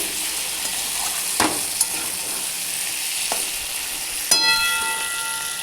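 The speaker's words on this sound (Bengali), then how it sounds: "টমেটোটা দিয়ে ভাজা ভাজা করে নিব, একটু ভালো করে কষবো কিছুক্ষণ" Steady sizzling of tomato masala frying in a pan for chicken curry, with a few sharp clinks of a utensil stirring against the metal.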